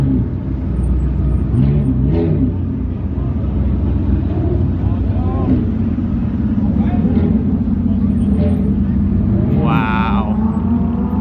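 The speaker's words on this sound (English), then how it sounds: "Watch this Chiron come down the hill." A Bugatti Chiron Super Sport rolls down a hill, its deep, steady engine rumble loud and close for the whole stretch, with a voice speaking over the drone.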